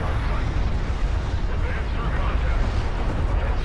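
In Deserts of Kharak, a cruise missile explosion rolls out as a dense, loud, sustained roaring rumble that stays heavy across the whole moment.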